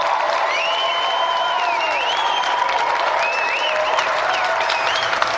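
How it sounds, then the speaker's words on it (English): A television game-show studio audience claps and cheers for a winner. The applause is loud and continuous, with a bright tune playing over it throughout. "let's have another round of applause for a brilliant winner, Josie Lawrence."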